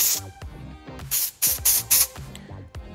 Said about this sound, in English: I'm gonna finish it off with the Heat Guard Dry Shampoo and Texturizing Spray